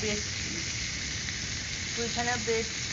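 Chopped tomatoes sautéing with onion, ginger and garlic in a pan for chicken korma, a steady close sizzle running throughout with a few brief tonal clinks near the end.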